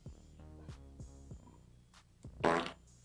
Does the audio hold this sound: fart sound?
yes